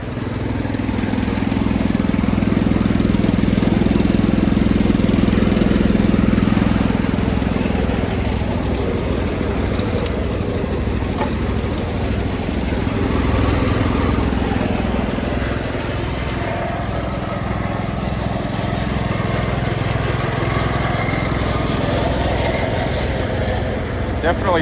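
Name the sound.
Wheel Horse garden tractor engine running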